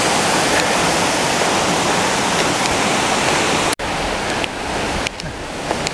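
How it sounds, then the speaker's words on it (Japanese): The Umore waterfall, also called Tengu waterfall, pours in a dense, continuous roar of falling water, loud and close, with a brief cut partway through and a slightly quieter rush afterward. "埋もれの滝。 どこにあるんだ。 これか。 天狗の滝のことだな。"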